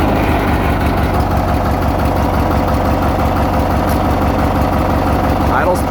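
A 1991 Murray riding mower's small engine runs at a steady, loud, close idle, with a throbbing low rumble that holds without a break.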